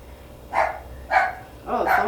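A small dog lets out three short, strained yelps or barks from some distance, each one separate and distressed-sounding, heard over a faint background hum in a home workshop.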